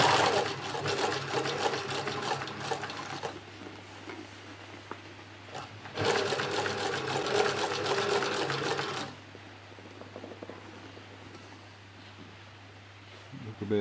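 A cylinder-bed sewing machine runs in two bursts of steady, whirring stitching, each a few seconds long, with a quieter pause between them and a low hum and faint handling noise after it stops.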